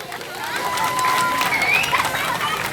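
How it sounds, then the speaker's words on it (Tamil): Audience at a Tamil speech event applauding and cheering loudly, a dense steady roar of clapping with a few whistles rising above it, close and continuous for the whole stretch. "நீங்கள் நல்ல பலத்த கரகோஷம் கொடுத்து அவரை பாராட்ட வேண்டும்"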